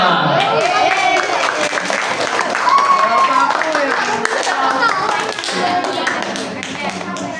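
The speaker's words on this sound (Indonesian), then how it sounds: "Tepuk tangan buat kita semua." A group claps for several seconds in a classroom guidance session, steady applause filling the room, with voices and cheers mixed in.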